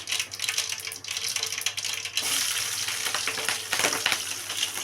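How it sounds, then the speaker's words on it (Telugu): Chillies and onion dropped into hot oil for a carrot curry, starting with a soft sizzle that swells into a loud, steady crackling fry up close, with brief bursts of spattering. "ఇప్పుడైతే మిర్చి ఆనియన్ వేస్తున్నా"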